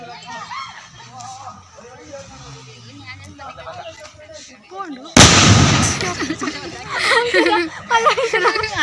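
Voices chatter and laugh, then a sudden loud burst of firecrackers erupts with crackling pops continuing under the shouting.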